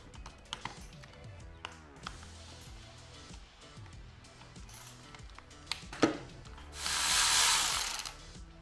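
Three 10mm bolts are backed out of the head cover on a CRF 450 dirt bike engine, giving scattered close metallic taps and ratchet clicks with a short rushing burst near the end, and no talking.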